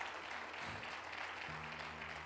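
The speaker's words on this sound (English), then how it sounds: "Clap your hands all over the building." Congregation clapping together in a church building during praise, a steady dense wash of applause at moderate level, with a sustained low musical tone entering partway through.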